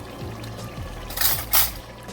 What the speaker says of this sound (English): Now, these are 45-ounce jars of spaghetti sauce. So I'm pouring one in